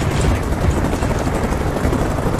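Helicopter in an action film scene: a dense, roaring rotor and engine wash that stays steady and loud throughout, with no clear voices.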